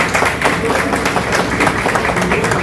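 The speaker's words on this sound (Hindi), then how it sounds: "ताली बजाइए" An audience clapping at a 70th birthday celebration held at an international school, a continuous dense round of applause from many hands, loud and close throughout.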